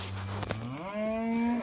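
Cattle in a paddock give a single long, loud moo close by, the low call rising in pitch and holding steady to the end, with no talk over it.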